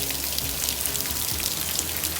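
Steady rain patters down on surfaces, a dense continuous hiss of drops with no pauses.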